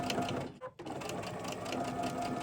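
A sewing machine stitching a felt heart project, a fast steady mechanical whir with a brief pause partway through, close and loud.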